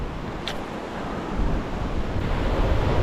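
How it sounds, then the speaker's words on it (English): Wind buffets the microphone while surf churns below a sea cliff during a fishing trip, a steady loud roar of waves and gusts with no voices. "The wind is definitely picking up a bit"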